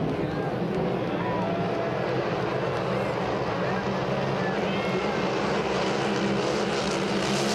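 Racing hydroplane engines roaring at full throttle through a turn at a St-Félicien race: a continuous loud, droning engine whine that holds steady throughout, with a commentator talking over it.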